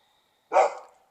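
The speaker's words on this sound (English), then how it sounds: "You can hear my dog." A single dog bark, close and fairly loud, rings out once against an otherwise quiet indoor background and trails off quickly.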